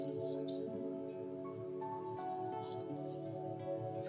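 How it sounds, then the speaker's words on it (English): Soaked soya chunks squeezed by hand to wring out water, soft wet squishes and drips close up, quiet against a steady background hum. "take this soaked soya chunks and take it out from the water and squeeze all the water out"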